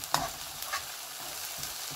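Chermoula with Chinese vermicelli sizzles and fries in a pan while being stirred, a steady hiss broken by a few scraping stir clicks, close and without talk.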